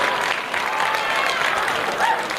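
Crowd noise at a 6A high school baseball semifinal between Lehi and Riverton: a sustained roar of cheering and clapping from the stands, loud and steady throughout.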